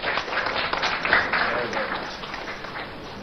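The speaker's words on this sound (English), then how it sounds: "A round of applause for him." Applause at a press briefing greets an MP from the NDC caucus, a steady patter of many hands clapping together that fades slightly toward the end, with voices mixed in.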